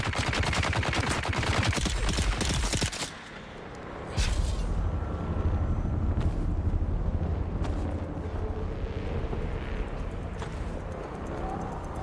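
Rapid automatic gunfire in the multiplayer game Dune Awakening rattles in dense, loud bursts for about three seconds, breaks off briefly, then continues as a steady roar of shots and impacts with scattered sharper cracks.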